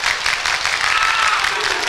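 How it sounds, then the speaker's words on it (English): A high school student section claps loudly and continuously in a gym during a Class 2A regional final volleyball match, with crowd noise mixed in. "And the Falcons student section starting the slow clap."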